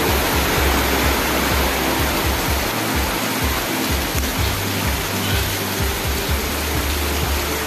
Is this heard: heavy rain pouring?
yes